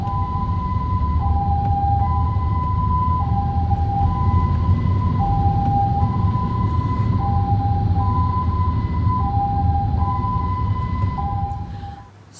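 Ambulance siren wailing in Shanghai traffic, a steady two-tone hi-lo alternation repeating evenly, loud and close over a low road rumble before cutting off at the end.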